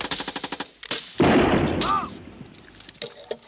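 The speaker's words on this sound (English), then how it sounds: "Small arms deal with the infantry, firing rapid until the anti-personnel mines are detonated." Small arms fire in a woodland battle: a rapid string of close gunshots, then a loud blast with a rumbling tail, followed by scattered further shots.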